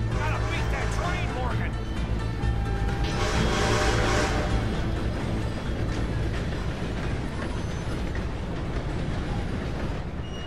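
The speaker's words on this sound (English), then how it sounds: "Gotta beat that train" A train rumbles and clatters continuously in Red Dead Redemption 2, loud and close during a chase, mixed with game noise and music, with no clear talk over it.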